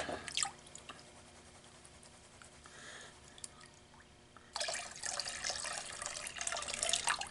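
Gold panning in water, with a powdery concentrate being swirled in a pan: soft dripping and trickling splashes, quiet at first, then a steadier, louder wash of water sloshing through the second half.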